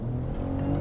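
Engine of a 2025 BMW X3 M50 pulling under acceleration, a steady low droning growl heard close with no talk.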